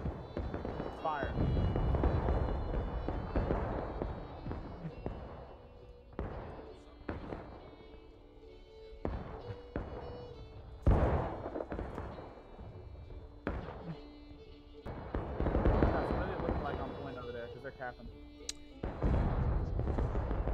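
Musket volleys crackle and boom in a Civil War battle video game, with irregular clusters of shots and thumps over about twenty seconds, fairly loud against steady background battle noise.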